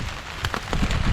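Rain patters steadily on a tent in Wisconsin during a solo backpacking trip on the Ice Age Trail, a close, dense hiss of drops with scattered louder taps and no voices.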